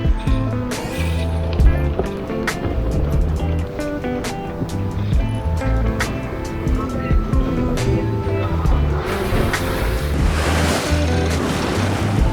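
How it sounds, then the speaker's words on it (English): Strong wind and choppy surf wash around a sailboat at anchor in stormy weather, a loud, steady roar of gusts and breaking water with microphone buffeting, rising toward the end, with someone talking over it. "There's quite a lot of wind today, so it will be quite difficult to lift the anchor"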